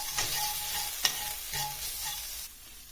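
A spoon scrapes and stirs through thick tomato paste in a pot, a few soft strokes with a faint sizzle underneath, close and quiet.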